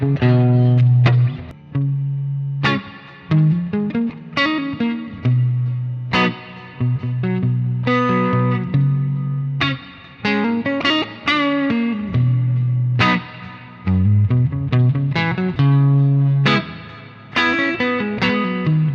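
An electric guitar plays a melodic line through a Vintage Vibe amp simulator plugin with a clean tone and a wet eighth-note delay. Notes ring loud and alone, with repeats trailing each phrase.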